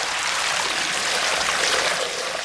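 Water rushes out through opened sluice gates from a hillside tank, a steady, loud, broadband torrent that pours continuously and stays close, with no voices over it.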